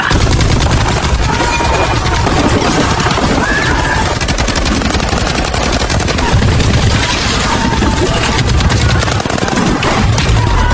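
Sustained gunfire from soldiers shooting at enemy troops, dense bursts and booms running loud and continuous throughout, with no talk.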